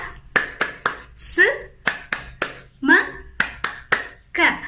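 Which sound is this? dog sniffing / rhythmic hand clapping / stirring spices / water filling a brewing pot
rhythmic hand clapping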